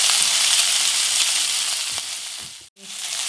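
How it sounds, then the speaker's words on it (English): Cabbage and moose sausage fry in a hot pan, giving a steady, close sizzle that runs throughout with a few soft stirring knocks and one brief drop-out near the end. "today we're going to be making this fried cabbage and sausage meal with moose"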